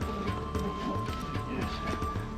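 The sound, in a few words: horses panicking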